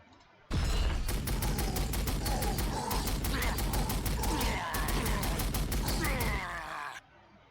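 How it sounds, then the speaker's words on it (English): A Gatling cannon fires in Warhammer 40,000: Sanctus Reach, a loud continuous rapid rattle of shots lasting about six seconds before cutting off abruptly, with distorted groaning effects mixed over it. "So probably just using my big Gatling cannon is the best choice."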